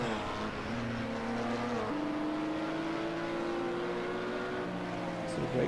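An LMP2 race car in Project Cars 2 at Mugello gives a deep, steady engine growl with a sustained tone that shifts pitch partway through, loud and continuous, with commentary talk over it.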